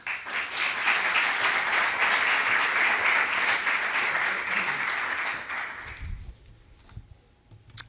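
An audience at a welcome event in Valencia applauds Rosa Donat, vice-rector of Innovation at the University of Valencia; dense, even clapping fills about six seconds, then thins out and dies away into quiet room noise.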